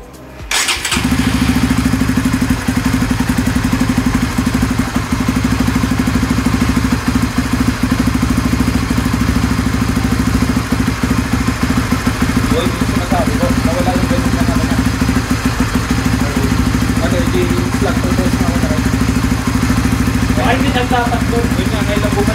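A GTR Supra 150 motorcycle fitted with an MVR1 exhaust pipe starts and settles into a loud, steady idle with a deep, continuous rumble throughout, close to the microphone, with a few faint clicks and background sounds.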